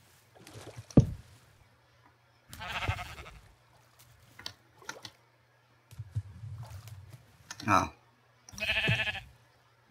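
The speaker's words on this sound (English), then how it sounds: "I hear some sheep rustling above the ceiling." Sheep bleat in short bursts in Minecraft between splashing and sloshing water, with a brief exclamation from a person and quiet stretches in between.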